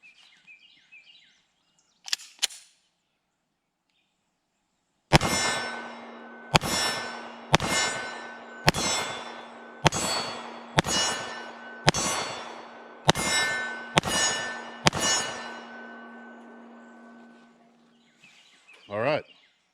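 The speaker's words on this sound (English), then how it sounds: "So let's take this old war horse out and ring a little steel." A CZ 75B 9mm pistol fires about ten evenly spaced shots at steel targets from roughly seven yards, each sharp crack followed by a bright metallic ring that hangs on between shots; brief voice sounds come before the string.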